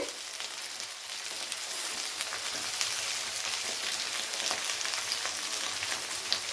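Flat beans and papaya hiss and crackle in a hot pan of oil for a mixed winter vegetable and prawn curry, a dense, even sizzle heard up close with no talking.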